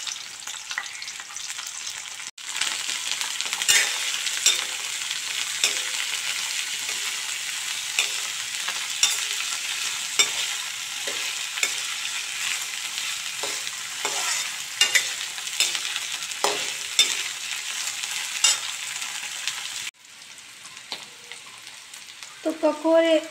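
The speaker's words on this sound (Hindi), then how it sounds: "तो ककोड़े डाल दे रही हूँ मैं कढ़ाई में, इनको स्लो मीडियम गैस पर इनको फ्राई करेंगे।" Kakoda, or spiny gourd, frying in a kadhai over a slow-medium gas flame gives a steady, close, dense sizzle that runs for about twenty seconds, with scattered light stirring clicks, before dropping off.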